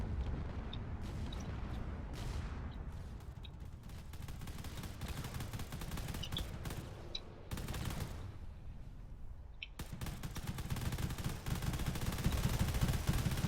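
Battleships unleash dense gunfire in a drone battle video game, rapid overlapping shots and heavy booming blasts rolling continuously, with brief sharp gaps between volleys and a rising rumble toward the end.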